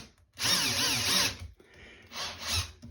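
Two close bursts of a power drill biting into a wooden cabinet door, a long whirring run then a shorter one after a brief pause.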